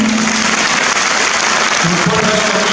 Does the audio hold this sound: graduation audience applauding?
yes